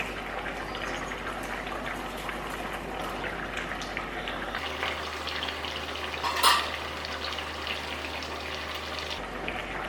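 Mustard seed tempering being poured into a thick fish head curry gives a soft, continuous sizzle and liquid hiss, with a brief sharper crackle midway and a low steady background hum.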